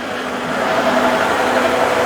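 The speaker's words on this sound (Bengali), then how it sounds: "ইঞ্জিনের সাউন্ডটা কিরকম আছে অনেকেই এটা আসলে" Used automatic car sitting at idle with the air conditioning running, a steady, even engine hum with a faint whine, close by and alone with no talking.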